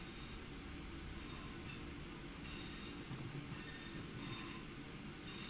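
A Lichfield-bound train runs on the railway, heard from the cab of a Class 323 as a steady, faint rumble of wheels on track with occasional squeals.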